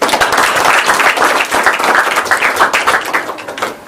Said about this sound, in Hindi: भगत जी के लिए एक ताली